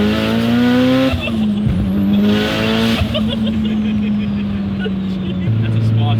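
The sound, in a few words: SR20 engine car running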